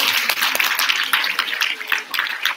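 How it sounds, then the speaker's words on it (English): An audience at a German spelling bee held at Delhi Public School, Patna East, claps for the children on stage, a dense, steady patter of many hands that continues throughout. "And round of applause for all the kids."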